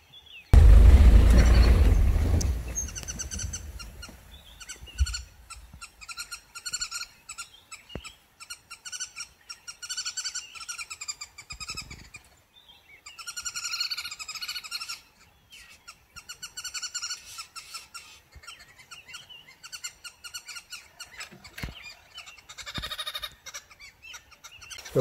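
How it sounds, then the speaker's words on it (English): Red-billed or green wood hoopoes call on safari in the bush, giving repeated rapid cackling, chattering bursts at moderate distance that come and go after a loud thump at the start, with no talking. "Those are your red-billed wood hoopoes, or the green wood hoopoes. They're just making that noise."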